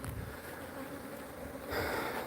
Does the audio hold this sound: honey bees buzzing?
yes